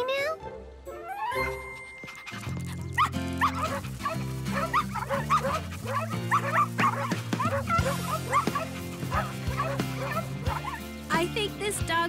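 Cartoon dogs at a dog park in Strawberry Shortcake, with repeated yips, barks and whimpers scattered over playful background music and voices talking.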